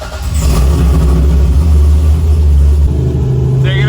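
A drift car's engine revs loud and close as it's readied for a US Drift Circuit ProAm event, a steady heavy roar holding for several seconds without pause.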